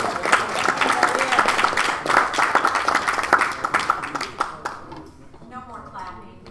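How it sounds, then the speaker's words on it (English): An audience at a city work session claps steadily for several seconds, a dense close patter that fades toward the end, with voices speaking over it. "No more clapping. No more clapping."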